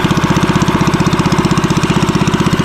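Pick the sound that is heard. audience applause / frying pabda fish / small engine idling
small engine idling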